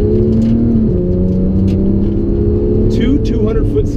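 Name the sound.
Porsche 911 GT3 engine accelerating on a track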